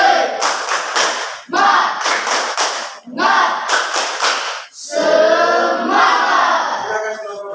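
A classroom group performs a rhythmic tepuk semangat spirit clap, three bursts of quick sharp handclaps separated by brief pauses, then the group shouts together in a loud chant at the end.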